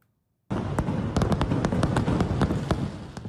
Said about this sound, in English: In India, there were fireworks